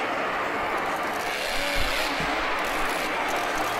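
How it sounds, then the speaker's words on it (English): Monster truck engines roaring inside NRG Stadium in Houston, a loud continuous broadband roar with brief low revving swells, heard from a distance amid crowd ambience with no talk. "Love the sound of these trucks."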